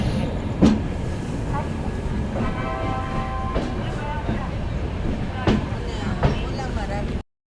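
A train pulls out of platform 6 at Varanasi Junction at night, a continuous rolling rumble with faint wheel clacks and a thin metallic squeal, while someone talks over it close by.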